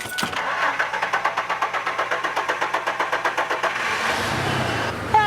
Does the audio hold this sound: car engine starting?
yes